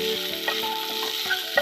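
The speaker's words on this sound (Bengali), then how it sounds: "এখানে একটা বড় পেঁয়াজ কাটা হয়েছে, সেটাই দিচ্ছি, ভালো করে লাল করে ভেজে নেব।" A large chopped onion frying in oil in a pan for a yam curry: a steady, fairly soft sizzle with a few light stirring scrapes.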